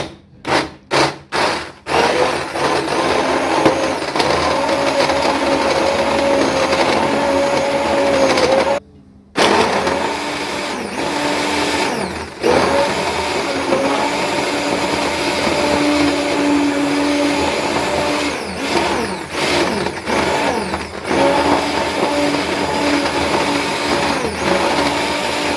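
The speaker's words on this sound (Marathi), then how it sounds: "आता माझ्याकडे हा ब्लेंडर आहे, त्यामुळे मी ब्लेंडरनेच तो गूळ असा विरघळून घेणार आहे." A blender whirs loudly and steadily as it dissolves jaggery. It runs with a few stuttering pulses at the start and one brief cutoff partway through, then keeps going at a constant roar.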